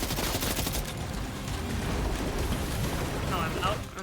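Dense, rapid gunfire from a weapon in Death Stranding 2 rattles on continuously at moderate volume, blending into a rough, roaring wash with a voice faintly underneath.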